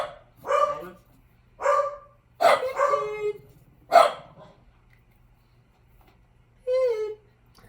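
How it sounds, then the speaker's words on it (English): A dog barks in four or five separate bursts, some doubled, fairly close and clear against a quiet background with a low steady hum, followed by a single higher whine or yelp after a pause. "It's a dog."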